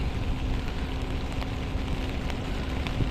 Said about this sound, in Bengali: এখন প্রচুর বৃষ্টি হচ্ছে নদী একদম উত্তাল